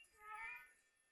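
A single cat meow rises and falls over about a second, quiet and fairly close, with no other sounds around it.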